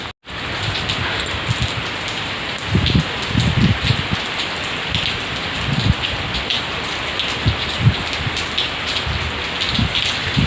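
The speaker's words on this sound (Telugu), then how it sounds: "ఇంకా వర్షం చూడండి ఎలాగ వస్తుందో, బాగా స్టార్ట్ అయింది." Heavy rain pours steadily onto surfaces during a cyclone-driven storm, a dense continuous hiss with occasional louder bursts of drops, close and unbroken throughout.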